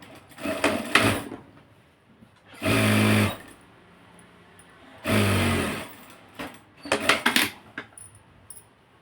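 A sewing machine stitching a folded dhoti pocket runs in two sustained bursts of a few seconds each, framed by clicks and handling noises of fabric being adjusted.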